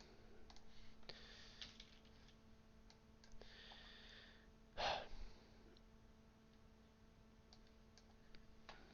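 Typing on a computer keyboard, a few faint, sparse clicks in short bursts, quiet and close, with one louder knock midway and a low electrical hum underneath.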